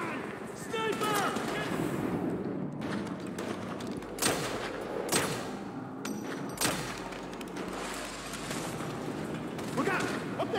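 Sniper gunfire in Grand Theft Auto V: several sharp, loud shots ring out at irregular intervals amid game noise, with a voice shouting briefly near the start and end.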